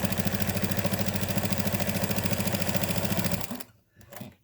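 A sewing machine runs steadily, stitching a calico hotpad with a denim backing, its rapid even mechanical chatter loud and close for several seconds before stopping abruptly, leaving brief quiet handling noise.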